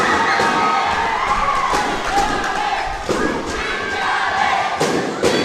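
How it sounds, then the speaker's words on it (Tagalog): Crowd of supporters at a live amateur basketball semifinal in a barangay league, cheering and shouting loudly and continuously with scattered thumps, a dense roar of voices throughout. "Barangay Malabog's crowd feeling it"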